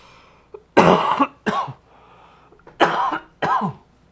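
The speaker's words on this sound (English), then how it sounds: "hopefully that cough winds down, but it is lingering" A person coughs in sharp, harsh bursts, two close pairs separated by short quiet gaps, loud and near the microphone with no talk between.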